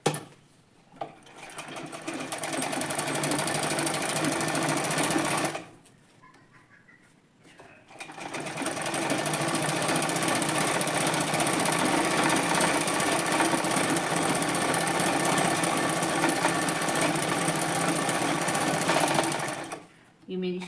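Domestic sewing machine stitching a wavy lahariya pattern on a salwar hem, a loud continuous rapid whirring hum in two long runs, separated by a brief pause with someone speaking softly.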